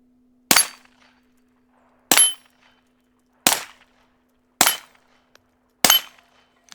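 Five sharp, evenly spaced shots crack from a Taurus TX22 Compact .22 pistol, each ringing briefly before fading into quiet.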